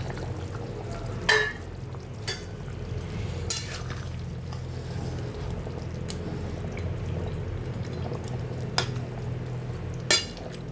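Fried snakehead fish is tipped into a simmering radish and vegetable curry, with a steady low bubbling broken by a few sharp metal clinks and scrapes of a spoon against the pot.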